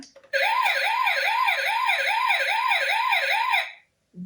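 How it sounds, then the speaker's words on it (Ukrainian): Police helicopter siren sound effect, a loud wailing two-tone siren cycling up and down about eight times, then cutting off into silence. "Це Поліцейський гелікоптер."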